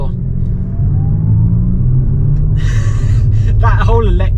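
A 2023 Abarth 500e electric car accelerates on a UK road with a low, swelling rumble and road noise building steadily, while a person speaks briefly near the end.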